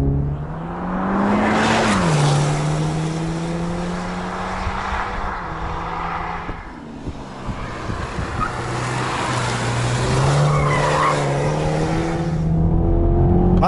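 A 2020 Toyota Supra with the 2.0-litre engine is being driven hard, its loud, steady engine drone climbing in pitch and dropping at a gear change before pulling again, with tyre and road noise underneath and no talking.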